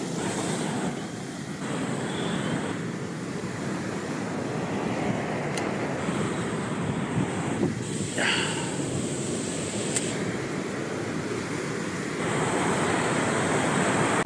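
Ocean surf at a seaside fishing spot in Australia, a continuous loud wash of waves and wind roar with occasional brief splashes, close and steady with no one speaking.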